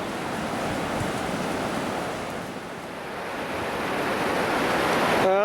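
A river rushes beside a rocky trekking trail in Nepal's Everest region, a steady, loud broadband wash of water. A voice comes in briefly at the very end.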